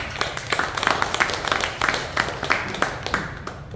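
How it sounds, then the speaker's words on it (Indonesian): A gathering at a memorial service breaks into steady clapping, a moderate crowd of hands beating in a loose rhythmic pattern, fairly close and lasting a few seconds. "Tepuk tangan buat Allah kita."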